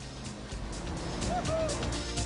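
Maserati cars parade through the streets of Rome past the Colosseum, a broad rumble of engines and tyres that swells steadily toward the end, with a faint murmur of voices beneath.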